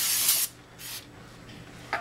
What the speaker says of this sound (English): clean it off with some brake parts cleaner